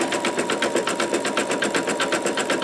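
A MagnaHoop magnetic hoop holds fabric on a larger embroidery machine as it stitches edge-to-edge quilting, a steady fast rhythmic whirring and clatter with regular pulses, close and continuous with no talking.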